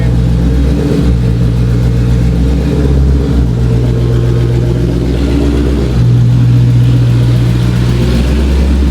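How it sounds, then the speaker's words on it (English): A Hellcat engine in a Dodge Magnum runs steadily nearby with loud, noisy fuel injectors, a continuous heavy mechanical drone with a slight rise in pitch partway through. "It's really loud by the injectors."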